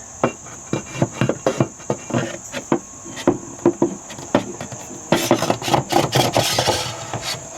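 A ratcheting handle clicks repeatedly while tightening the leg of a Lagun table in a van conversion, giving a close series of sharp rasping clicks that speeds into a denser burst near the end.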